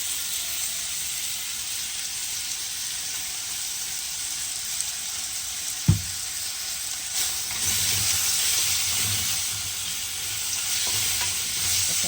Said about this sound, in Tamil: தக்காளி பழத்தை போட்டு தக்காளி பழம் வதங்குறதுக்கு கொஞ்சம் உப்பு போடுவோம்